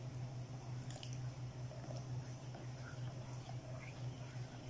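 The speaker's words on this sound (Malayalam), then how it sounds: "ചേർത്ത് കഴിഞ്ഞ് കഴിഞ്ഞാൽ പിന്നെ കൈയെടുക്കാതെ ഒന്ന് ഇളക്കി കൊടുക്കണം" A thickening pudding mixture being stirred in a pan produces soft, wet squishing and faint scraping, quiet against a steady low hum.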